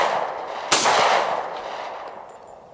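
A 1911 pistol firing an 8.5 grain load: one sharp, loud report near the start with a long reverberant decay, the second shot not clearly separated.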